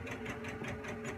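A Janome MC200e computerized embroidery machine stitching a design, a close, steady rapid mechanical whir with a fast even rhythmic pulse of the needle, quiet and continuous with no talking.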